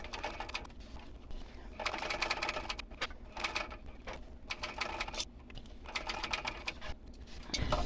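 A sewing machine basts around the edges of a handbag at a 5 stitch length, running in steady bursts of rapid mechanical stitching separated by short pauses, close and alone.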